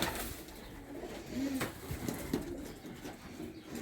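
Racing pigeons coo in a loft, several low rolling calls rising briefly above a background hum and scattered rustling, moderately near and fairly quiet.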